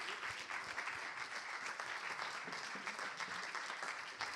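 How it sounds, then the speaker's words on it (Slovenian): An audience claps for Ester Ivakič at an evening of young women directors. The applause is dense and sustained, holding at a steady level for the whole stretch with no voices over it. "Dajmo zdaj en aplavz za Ester Ivakič"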